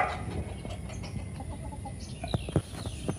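Chickens on a farm cluck quietly near at hand, a few soft scattered calls with one or two sharper clucks, over low outdoor background noise.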